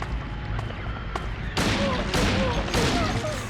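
Several heavy gunshots from the Silent Hill 2 video game on PS2, a few separate loud reports spaced across the clip over a murky ambient background.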